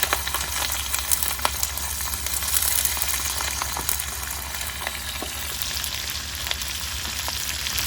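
Garlic and onion sizzle in hot oil in a pan for pork fried rice, a steady loud frying hiss with occasional crackles throughout, no voices.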